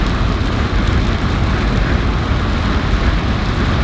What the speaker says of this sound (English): the rain seems to be getting a little heavier the closer I get to my house